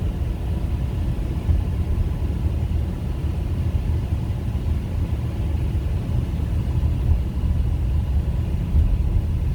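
A car drives past a community center in a residential park, giving a steady broadband road rumble of tires and engine that stays constant and fairly close throughout.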